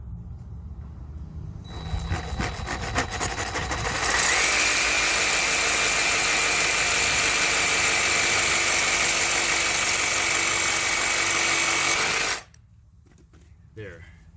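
Metal pipe or rebar being cut with a power tool, starting slow and speeding up: a loud, steady high-pitched grinding whine holds for about eight seconds after a quieter motor lead-in, then cuts off abruptly into near silence.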